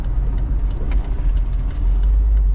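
Jeep TJ driving on the road after steering, suspension and driveline angle fixes, a steady loud engine and road rumble heard from inside, continuous with no talk.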